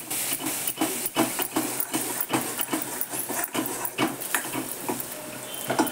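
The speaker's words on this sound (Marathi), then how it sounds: "परतू देते जरा चांगलं." Dal and peanuts sautéing with turmeric and asafoetida in a hot pan, giving a steady close sizzle with frequent crackling pops throughout and no talking.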